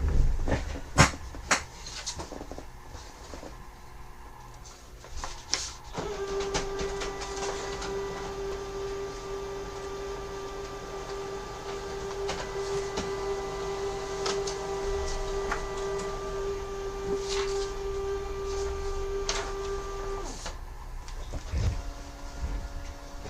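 A fast laser printer clicks and clunks into action, then runs with a sustained steady whine and hum for about fifteen seconds before stopping with more clicks and rattles, heard close up with no talking.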